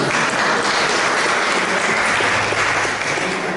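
Steady, full applause fills a hall at a twinned-towns meeting in Auxerre on heritage and economy, broad and even from start to finish.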